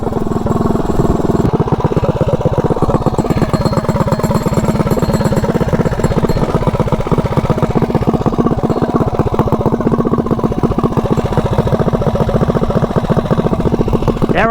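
A Rascal GT drag mini bike engine fitted with Douglas wheels runs loud and close, a steady rapid chugging putter that holds an even rhythm throughout.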